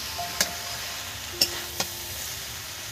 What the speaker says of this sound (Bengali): ভেজে রাখা আলুগুলো দিয়ে দিলাম দিয়ে এটাকে এবার কিছুক্ষণ একটু নেড়ে চেড়ে নেবো